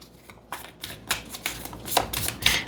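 Tarot cards drawn and shuffled by hand at close range, a run of soft papery riffles and slaps that build in density and loudness over a few seconds, with no talking.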